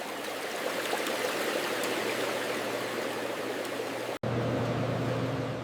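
Running water rinsing bamboo shoots on a factory processing line, a steady broadband stream-like rush that continues throughout, briefly cut at one point before resuming with a low machine hum underneath.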